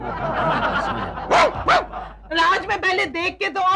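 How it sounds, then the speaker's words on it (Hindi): A stray dog barks inside a house, two sharp close barks and then a quick string of yips, with someone talking over part of it in a comedy scene. "कुत्ता हमारे घर में भौंक रहा है"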